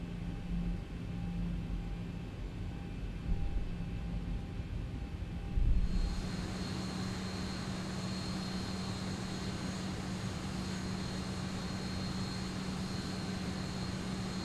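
A Zibo Boeing 737 taxis in X-Plane 11 with a steady jet engine hum; partway through the cockpit tone shifts brighter as a broadband hiss rises and holds, no talking.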